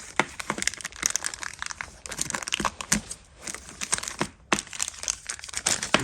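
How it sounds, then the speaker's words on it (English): Thin packaging for a Matco flip socket being ripped open at the top, a run of sharp crinkling and tearing bursts with short pauses between them, close and fairly loud, with no talking. "You got to rip the top off like such."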